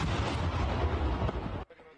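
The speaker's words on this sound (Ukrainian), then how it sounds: "Це гармата Д1 у вагнерівців." A D-1 howitzer of the 1943 model fires in a war setting, a loud, dense blast filling the first second and a half, then cutting off sharply into a faint, dying tail.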